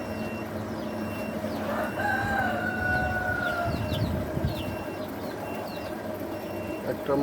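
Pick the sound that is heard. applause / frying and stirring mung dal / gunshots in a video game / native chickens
native chickens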